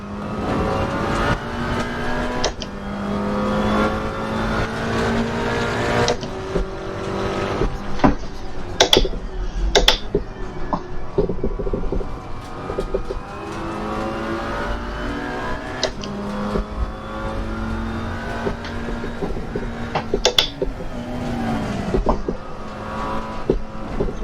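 A McLaren GT4 race car in Assetto Corsa Competizione held at full throttle, its engine roaring steadily and rising in pitch through the gears, with sharp shift blips and brief lifts, loud and close throughout.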